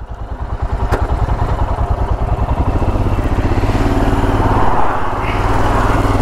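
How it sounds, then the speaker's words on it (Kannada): A motorcycle engine that has just started after an overheating struggle runs close and loud on a busy road, with a steady rapid idle putter that rises slightly in intensity. "thank god bike started"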